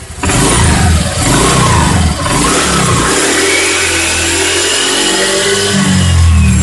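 Honda Vario 125 automatic scooter engine revving with a humming noise, a loud close engine rising and falling in pitch, heard alone with no talk.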